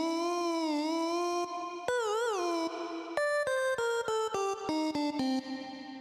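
A sung voice is played as a synth in Ableton through OTT multiband compression, producing bright, buzzy pitched tones with strong harmonics. A long bending phrase gives way to a run of short staccato notes, loud and close.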